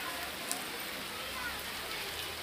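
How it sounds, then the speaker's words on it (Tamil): Heavy rain pours steadily on a deserted street in Dharapuram, a dense, even hiss with no breaks, heard from close by, and faint voices murmur now and then underneath the downpour. "மழை வந்து பயங்கர பெய்யுது"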